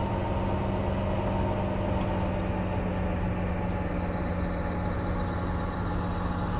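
A Union Pacific SD60M diesel locomotive in a train simulator game hauls along Sherman Hill, giving a steady, loud engine drone with a low hum and a constant rolling rumble and no pauses.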